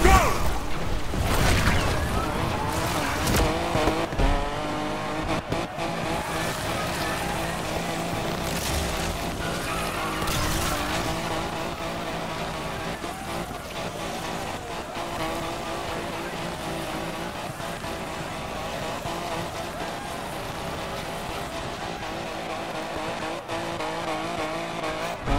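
Cars rev and tires squeal in the Need for Speed Unbound racing game, a loud, dense engine roar with sharp bursts early on, then sustained racing noise throughout.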